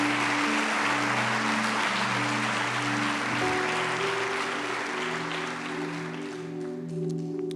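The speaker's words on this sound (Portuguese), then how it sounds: "Pode aplaudir o nome do Senhor." A church congregation applauds over sustained keyboard pads. The clapping is dense and steady and eases slightly toward the end as the organ-like chords shift underneath.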